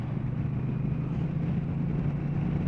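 A Honda CMX 1100 Rebel DCT motorcycle with its standard exhaust pipe, a steady low engine drone held at a constant loud level throughout.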